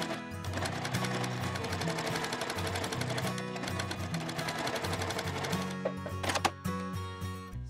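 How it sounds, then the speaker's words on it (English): A sewing machine stitches quilt block seams in one continuous, close and loud run, its needle chattering at a fast, even pace until it slows and stops near the end. "I'm just going to sew along, removing the pins as I need to"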